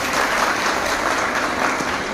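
An audience at a health check-up camp for ASHA workers in Junnar applauds Dr. Mansing Sable, a dense, steady burst of many hands clapping close by throughout.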